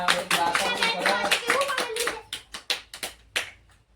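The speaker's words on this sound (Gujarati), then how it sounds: "તાળી બજાવો આપણે" Young children in a classroom clap their hands in a quick, uneven patter that follows a stretch of singing voices. The claps then thin into a few separate, sharp claps close by.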